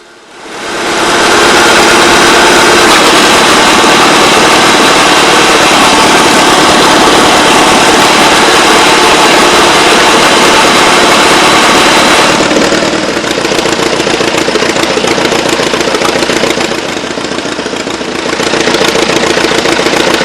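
A loud old tractor engine runs steadily at a constant drone, powering a homebuilt PTO-driven hydraulic wood splitter, dipping slightly in load partway through, with no talking.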